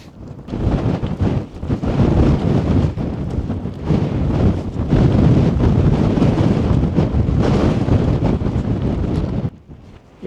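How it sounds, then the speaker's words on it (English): Strong cold wind buffets the microphone on a mountain path near The Cobbler, a loud continuous roar with gusty surges and no speech. "Hopefully when we get round the corner here, the wind will maybe be at our back"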